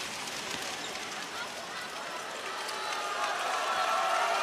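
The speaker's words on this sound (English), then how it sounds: "You kind of hear the Kings crowd is finally playing an effect in the second half" A basketball arena crowd cheering for the New Taipei Kings during a PLG Finals game, a dense steady roar that swells slightly toward the end, with faint commentary voices beneath.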